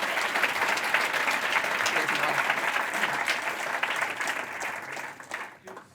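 An audience at a data-for-good conference talk claps in a sustained burst, dense and close, thinning and fading out near the end.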